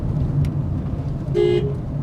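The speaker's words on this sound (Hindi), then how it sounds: "हॉर्न दबाइए" A single short car horn toot sounds over a steady idling engine inside a car during a driving lesson near a speed breaker.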